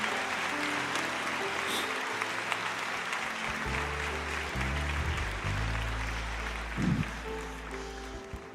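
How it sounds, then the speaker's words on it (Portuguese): A church congregation applauds during a sermon, a moderately loud wash of clapping from many people with low hum and musical tones underneath, and a brief louder burst near the end. "Aplauda mais, igreja."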